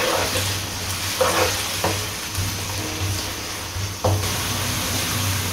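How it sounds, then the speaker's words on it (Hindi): Onions fry in hot cooking oil for a chicken pulao, a continuous loud sizzle with a low hum beneath and occasional scrapes and taps of a spoon stirring, close with no talk. "जब कुकिंग ऑयल हमारा गर्म हो जाए तो इसमें हमने ये प्याज डाल देना।"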